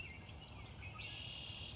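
A small toad or frog chirps outdoors on a spring day among wildflowers, a faint, steady high trill that runs throughout over a low background rumble.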